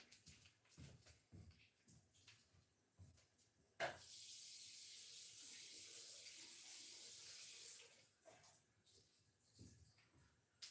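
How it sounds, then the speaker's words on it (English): A tap runs into a sink while hands are rinsed, a steady close hiss of flowing water lasting about four seconds, set between quiet shuffling and handling noises. "I need to rinse my hands."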